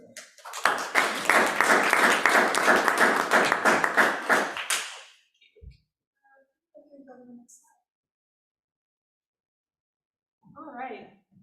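Audience applause welcomes a speaker at a talk: a steady burst of many hands clapping for about five seconds, then fading into quiet with a few faint thuds and a voice beginning to speak.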